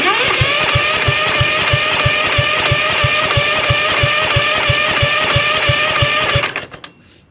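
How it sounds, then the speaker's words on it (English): A Husqvarna CT151 ride-on mower's starter motor cranks steadily with a fast, even mechanical whir and regular chugging pulses, loud and close for about six seconds before cutting off abruptly. "Well, the starter motor works good now, anyway."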